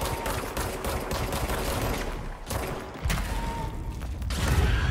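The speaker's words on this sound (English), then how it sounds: "Why is the gun shooting so slow?" Rapid bursts of gunfire from a weapon in the video game Control, loud repeated shots in a steady stream with mechanical clatter amid game ambience.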